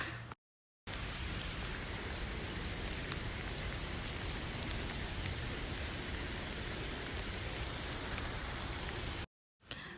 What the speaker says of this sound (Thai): ฝนตกแ้งอยู่ข้างนอก